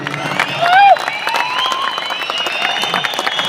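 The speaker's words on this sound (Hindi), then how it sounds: "ताली बजाएं।" Audience applause at a large stadium gathering in New Delhi, a dense wash of clapping and crowd noise with a brief rising whistle early on, steady and loud throughout.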